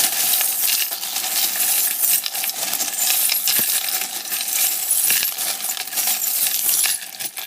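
Small metal charms rattle and clink continuously as they are shuffled, a dense jingling clatter close by with no voices.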